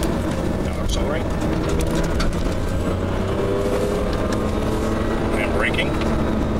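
A Porsche 997 accelerates on a race track, its engine a steady close drone from inside the car while a driving instructor talks over it.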